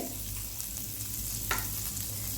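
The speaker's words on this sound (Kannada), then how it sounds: "ಸ್ವಲ್ಪ ಪ್ಯಾನ್ ಬಿಸಿ ಆಗಲಿ, ಇದಕ್ಕೊಂದು ಅರ್ಧ ಟೇಬಲ್ ಸ್ಪೂನ್ನಷ್ಟು ನಾನು ಬಟರ್ ಹಾಕ್ತೇನೆ. ಈಗ ಬಟರ್ ಮೆಲ್ಟ್ ಆಗಲಿ." About half a tablespoon of butter melts in a hot pan for bread toast, giving a faint, steady sizzle with a brief stir partway through.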